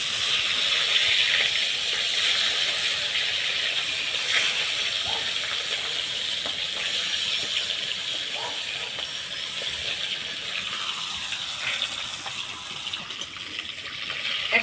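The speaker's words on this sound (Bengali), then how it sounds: "এখন ভেজে নিব মাছের মাথা।" Katla fish heads frying in hot mustard oil in a wok, a steady loud sizzling hiss running continuously throughout with no talking.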